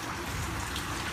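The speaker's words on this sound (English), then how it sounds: "Listen to that water." Steady, faint rush of floodwater flowing along a city street, a continuous broadband wash with no pauses or voices.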